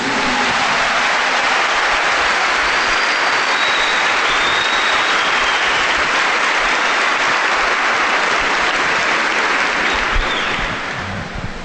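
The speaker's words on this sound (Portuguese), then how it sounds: "Give the Lord a big clap for that." A congregation at a Catholic healing service gives loud, sustained applause, a dense, unbroken roar of clapping that barely eases before the very end.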